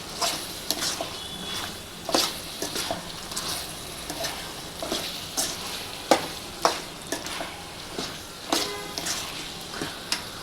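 Chicken sizzles steadily in a hot pan while being fried for coriander chicken fried rice, with repeated sharp scraping stirs and clanks punctuating the constant frying hiss, close up and without talking.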